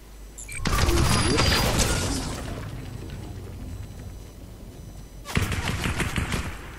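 Video game gunfire in a battle royale match: a loud burst of rapid automatic shots, a fading rumbling tail, then a second burst of rapid fire.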